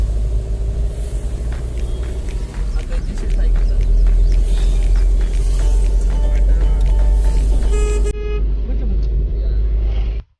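Busy road traffic at Miyapur X Road in Hyderabad, with a steady engine rumble, several car horns honking near and far, and voices talking over it before the sound cuts off.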